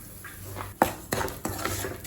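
A spoon clinks and scrapes in a pan as semolina (rava) is roasted and stirred over low heat, with a few sharp metallic knocks over a soft dry rustle, close and alone.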